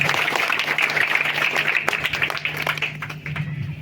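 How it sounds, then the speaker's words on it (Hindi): An audience at an Independence Day award ceremony in Banpur, India, claps for an honoree. The applause is a dense, steady clatter lasting a few seconds, with faint voices mixed in. "एक बार जोरदार ताली"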